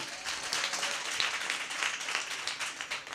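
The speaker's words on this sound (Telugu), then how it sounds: "గట్టిగా చప్పట్లు కొడదాం." A church congregation claps loudly together during a sermon, steady dense applause running throughout with no talk over it.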